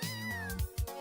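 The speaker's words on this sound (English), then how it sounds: "a calico kitten is snug and curled up in a tree" A calico kitten stuck up in a tree in a video game gives a single drawn-out, falling meow, followed by a couple of soft low thumps, close and clear with no talking.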